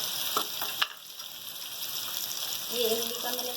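Ground spices hit hot oil in a pan of frying arvi (taro root), giving a steady close sizzle with a sharp clack near the start and a voice talking over it.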